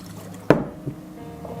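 A glass bottle of liquid holding small particles is shaken once with a short sloshing burst, followed by a faint second slosh and a quiet tail.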